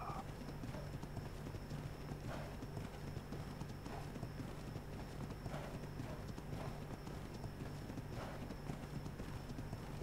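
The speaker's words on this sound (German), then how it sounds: "ein wildes Pferd reiten möchte." Horse hooves clip-clop at a steady walking pace in the video game ARK Ragnarok, over a low, constant background hum, fairly quiet and evenly rhythmic.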